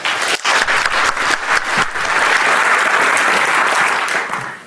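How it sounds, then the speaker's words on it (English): A conference audience gives a speaker a warm round of applause, dense and loud from start to finish, with many hands clapping together before it tapers slightly at the end. "Give a warm hand of applause to Pablo."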